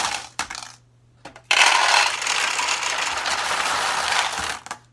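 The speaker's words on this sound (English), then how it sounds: "So now the machine is ready to accept pachinko balls." Metal pachinko balls pour into a pachinko machine during setup, a loud continuous rattling rush after a few brief clatters, cutting off abruptly at the end.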